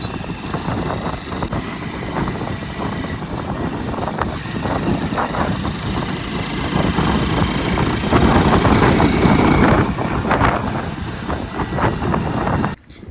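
A motorcycle engine runs steadily and loudly for the whole stretch, a close, continuous idle-like rumble with slight swells and no pauses.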